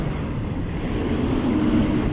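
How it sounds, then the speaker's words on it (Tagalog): Wind gusts through an abandoned Waltermart mall in Calamba, Laguna, as a steady, full rushing roar with no pauses that swells slightly toward the end. "Ay, mahangin dito guys."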